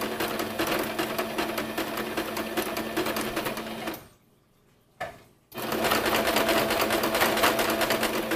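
A sewing machine back stitches rat hammock fabric in a loud, steady close-up whir that cuts out briefly with a short blip, then starts again, with no talk.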